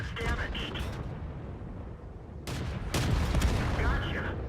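An M5 Stuart tank in a video game fires HEAT rounds: heavy booming shots with a sharp blast near the middle, over rumbling engine and battle noise, with a voice speaking at points.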